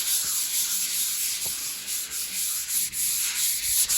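600-grit paper rubbed by hand in circular strokes over fresh paint on a vintage Massey Ferguson tractor gives a steady, close, raspy scuffing with slight rhythmic swells and no voices.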